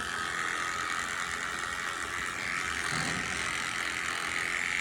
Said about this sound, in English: see how my clippers are starting to bind up?